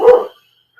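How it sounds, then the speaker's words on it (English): A single loud, close dog bark at dogs walking outside that cuts off abruptly, followed by near silence. "There go the dogs barking at the dogs walking outside."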